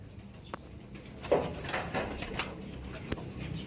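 A large flock of pigeons coos softly while scrambling for feed amid a faint, busy background, with occasional wing flutters and low murmuring calls at moderate distance.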